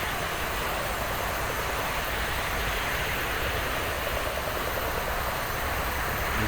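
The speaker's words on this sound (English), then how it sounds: "The jet engines very close to the cockpit." Jet aircraft engines roar at a DCS flight simulator air show, a loud, dense, steady broadband rush close to the cockpit that holds without letup, with no voices.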